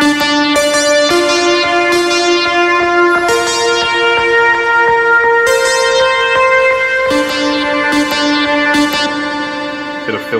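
Sample track on an Elektron Octatrack run through a filter and dark reverb, a sustained tonal pattern with bright attacks re-triggering every couple of seconds over a steady, smeared wash, played alone and fairly loud.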